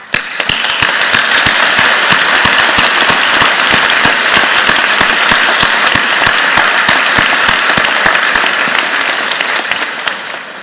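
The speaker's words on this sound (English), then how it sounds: "join me in the platform party in thanking them with a vigorous round of applause" A large convocation audience of engineering graduates, friends and family gives a vigorous, sustained round of applause, dense and loud throughout before tapering slightly at the end.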